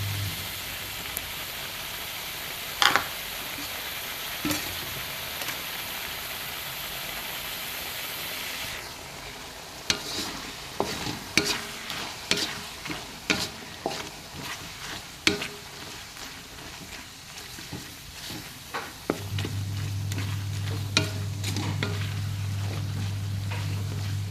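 Pad kee mao stir-fried in a pan with seasoning powder and a little sugar, giving a steady sizzling hiss with scattered sharp clinks and scrapes of the spatula. A low hum comes in near the end.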